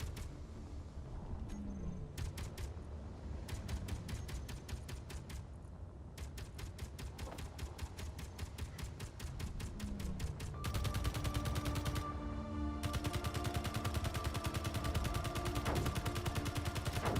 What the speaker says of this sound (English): Time to get the machine gun out.